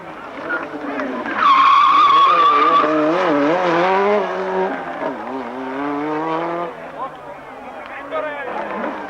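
A Renault 5 Turbo slides sideways through a drift, a loud sustained tire squeal rising over the engine note and then giving way to revving and lighter skidding, with a narrator talking over much of it.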